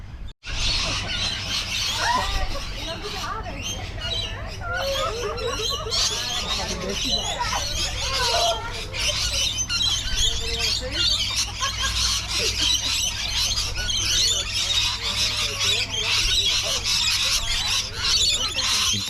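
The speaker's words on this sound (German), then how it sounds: "Der Park scheint fest in Vogelhand zu sein." Geese and other birds honk and call continuously at Tasman Holiday Park in Airlie Beach, a busy, overlapping chorus close by with a steady low background hum.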